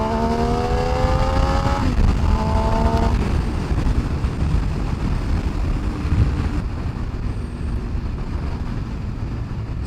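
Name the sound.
Benelli Tornado 900 motorcycle engine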